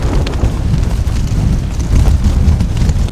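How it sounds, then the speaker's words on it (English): Strong mountain wind gusts batter a tent in a continuous loud rumbling roar, buffeting in surges with deep low blasts against the fabric close to the microphone. "it's handling an absolute hammering with wind. Some of these gusts are crazy."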